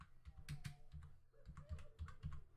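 Quick keystrokes on a computer keyboard while entering a router configuration command, a close, quiet run of irregular clicks and taps with no talk.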